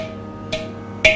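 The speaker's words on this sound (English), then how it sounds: "So the body produces the sound like" Two sharp, bright strikes on the body of a ghatam clay pot drum, evenly spaced over a faint sustained ring, close and crisp.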